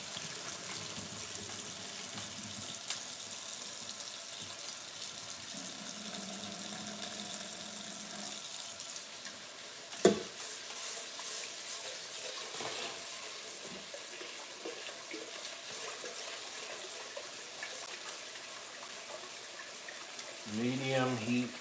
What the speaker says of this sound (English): Swirling this rice around in the water.